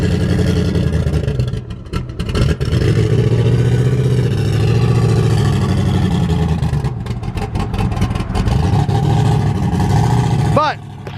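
A loud turbocharged Camaro engine rumbles steadily and close on a dyno, with a deep throbbing growl that briefly revs near the end.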